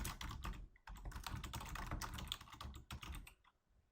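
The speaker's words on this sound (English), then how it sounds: "I'm going to type the author information" Fast, close typing on a computer keyboard, with bursts of rapid key clicks broken by brief pauses and trailing off at the end.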